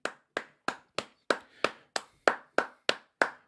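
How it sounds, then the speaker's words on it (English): About eleven sharp hand claps from a single person, evenly spaced and close, ringing out alone in a quiet room as applause for an Arsenal midfielder. "I'm giving him his round of applause because he talks a lot."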